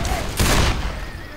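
Loud, close gunfire in the video game Left 4 Dead 2, with a heavy burst of rapid shots near the start that tails off into a lingering rumble, and a voice briefly audible underneath.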